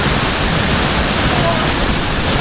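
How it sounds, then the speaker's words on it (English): La Fortuna waterfall in Costa Rica roars as a loud, constant wash of falling water, close by and unbroken. "you see the water still coming down"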